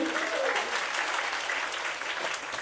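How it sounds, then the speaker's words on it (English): An audience at a school annual day celebration in Finland bursts into loud, sustained applause and cheering that fills the whole moment and tapers off slightly toward the end. "Loud cheer for that."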